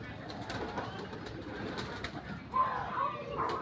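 Pigeons or doves cooing near their nests at a villa resort in Sharjah, a few soft calls late in the clip over steady outdoor background noise.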